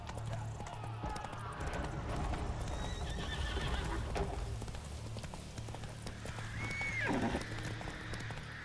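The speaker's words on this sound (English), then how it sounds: "Run on my horse." A horse in The Witcher 3 video game whinnies loudly while its hooves clip-clop in a steady galloping rhythm, with game ambience and voices mixed in around it.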